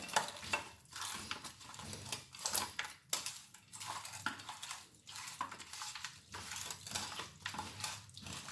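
Rohu fish pieces being mixed with masala and a teaspoon of coconut oil in a metal bowl, heard as close, uneven clinks and scrapes of utensil against dish with short squelchy pauses.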